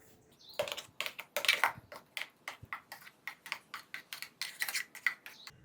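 Dry ingredients for mango rasbora batter being stirred in a bowl, a quick run of close, crisp ticking and scraping strokes in steady rhythm, fairly quiet with no talk.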